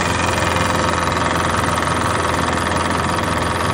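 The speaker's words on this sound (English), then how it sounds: "my fans do work, although they were a little noisy" Electric cooling fans on a 1978 MGB with a Rover V8 run noisily, giving a loud, steady whirring drone with no talking.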